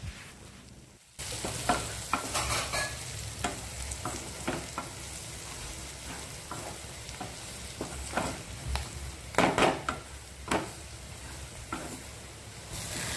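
Cluster beans sautéing in a pan with turmeric, red chili and cumin powder, a steady soft sizzle with intermittent stirring scrapes and clinks, close and fairly quiet.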